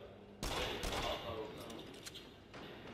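Gunfire in the VR shooter Rush of Blood, a sudden loud burst of shots followed by a few scattered sharper reports fading into background game noise.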